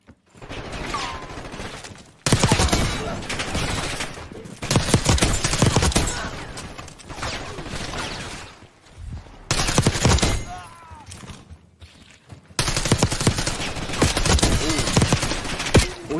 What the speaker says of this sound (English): Whatever gun this is, this gun is crazy.